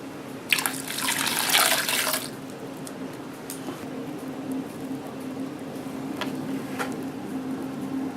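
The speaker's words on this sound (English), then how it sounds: "I'm now rinsing off the hydrogen peroxide." Running tap water splashes into a sink as an orchid is rinsed, a loud burst of gushing flow early on followed by quieter trickling and a few brief splashes against a steady low hum.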